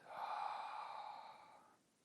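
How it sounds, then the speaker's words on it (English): A single deep breath is drawn in and slowly let out, a soft airy close sigh lasting under two seconds and fading into near silence, with no speech. "take a deep breath in"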